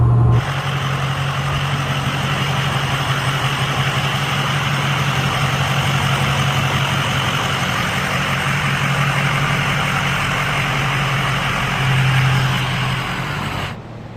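A 6.0 Powerstroke diesel truck engine runs on a dyno with a loud, steady low drone that holds level for about fourteen seconds and swells briefly near the end.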